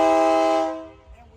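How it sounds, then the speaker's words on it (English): A loud, sustained train horn blast with strong harmonic tones holds for about half a second, then fades away, leaving a low rumble. "But that train horn was really loud."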